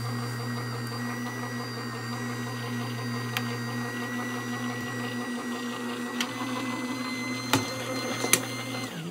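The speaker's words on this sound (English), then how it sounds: "let's feed it into this Gemini JR." A Gemini Jr. die-cutting machine feeding a card through, giving a steady low motor drone with a constant hum, close and even, broken by a few faint clicks near the end; no speech.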